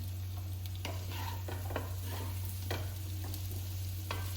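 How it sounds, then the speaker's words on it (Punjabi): Amla and green chilli pickle is stirred gently in a pan, with a soft continuous sizzle and scattered light scrapes and taps of the spoon against the pan over a steady low hum. "ਇਸ ਤਰ੍ਹਾਂ ਨਾ ਪੋਲੇ ਪੋਲੇ ਹੱਥਾਂ ਦੇ ਨਾਲ ਇਹਨੂੰ ਐ ਚੰਗੀ ਤਰ੍ਹਾਂ ਹਲਾਈ ਜਾਣਾ ਹੈ"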